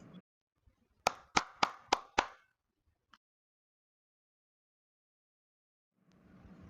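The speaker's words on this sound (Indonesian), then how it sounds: "Tepuk tangan dulu buat Damien" Five quick, crisp hand claps in a short burst, a sparse stock applause effect from an animated classroom scene, followed by a single faint tap and then near silence before quiet noise returns.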